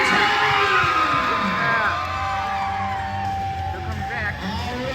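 Crowd cheering, whooping and yelling at a motocross freestyle show, a loud, continuous roar of many voices with rising shouts throughout, heard up close.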